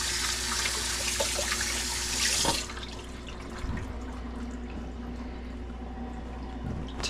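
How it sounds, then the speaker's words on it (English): Water runs from a kitchen tap while hands are washed, a steady close hiss for a couple of seconds before it shuts off, followed by faint drips and quiet handling sounds. "Wash my hands real quick."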